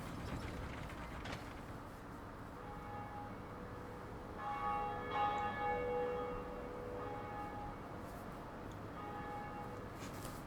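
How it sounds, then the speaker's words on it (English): A bell rings in Dark Souls Remastered: a bright, sustained metallic tone swells midway and then fades, with softer ringing repeats afterward over a low, continuous game-world rumble. "go ahead and ring the bell"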